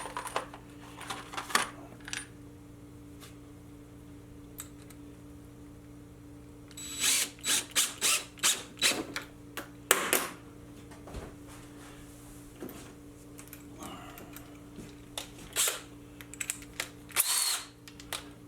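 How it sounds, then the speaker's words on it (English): A power drill drives 6 by 1.25 inch drywall screws during a bench dog build, heard as faint, rapid clusters of short whirring bursts and clicks over a quiet room hum, alone without talking. "Sorry about all that noise. But I'm just using these drywall screws."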